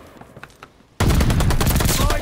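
Burst of loud, dense gunfire in Call of Duty Vanguard starts abruptly after faint distant shots and continues rapidly, close and harsh.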